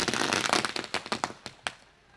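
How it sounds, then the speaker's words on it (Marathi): Firecrackers go off to welcome a guest at a village cricket tournament, a fast crackling burst of loud pops that thins into a few separate bangs before fading, with no voices heard. "त्यांच्या स्वागतासाठी ही फटाक्यांची आतषबाजी."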